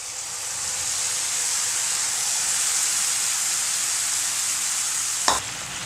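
Continuous loud sizzling and hissing as tamarind water is poured into a hot pan of sautéed tomatoes for ginger curry, steady throughout, with a brief clatter near the end.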